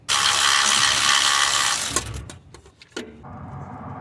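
A ratchet wrench works on a 13mm bolt on a Ford 5.4 engine with a broken flexplate: a loud steady whirring run, then several separate sharp clicks, close by with no talking.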